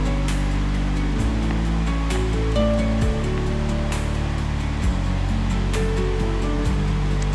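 Jalebi spirals sizzle in hot oil as they fry, a dense, steady hiss heard alone with faint clicks and bumps from handling.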